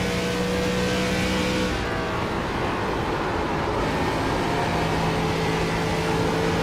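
An ARCA race car in the iRacing game at Rockingham, its engine droning loud and steady with a brief lift in the middle, a constant buzzing roar throughout.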